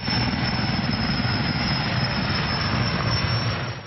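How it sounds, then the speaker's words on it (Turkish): A fire-fighting helicopter flies steadily overhead in Istanbul, its rotor and turbine producing a loud, continuous whine and thrumming roar that holds at an even level throughout, with no voices. "İstanbul itfaiyesinde hizmet verecek olan yangın söndürme helikopteri 50 metreye kadar alçalabiliyor"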